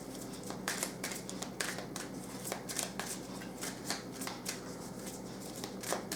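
Oracle cards being shuffled by hand, a steady run of crisp riffling flutters and soft slaps repeating close up and alone over a quiet room, with no talking.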